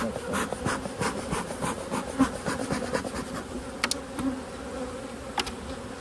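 Honey bees swarm and buzz around an open beehive during a fall inspection, a dense, steady drone close by, broken by occasional wooden knocks and scrapes from handling the hive.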